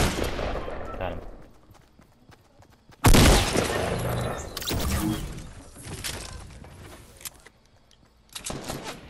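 Gunfire in the Fortnite battle royale video game, loud bursts of shots and impacts erupting after a quieter stretch, returning near the end, with players talking over it.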